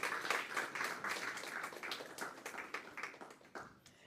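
Applause from an audience at a robotics camp exhibition in Anguilla, a steady patter of many hands clapping at moderate volume that gradually thins toward the end.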